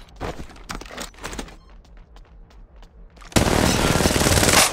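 Gunfire in Apex Legends Mobile in Kings Canyon: several close bursts of rapid automatic shots, then scattered single cracks, ending in a loud sustained stream of continuous fire.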